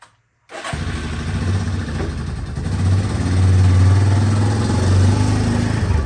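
A Yamaha Big Bear 350 ATV engine cranks and catches after a brief silence, then settles into a loud, steady idle close by.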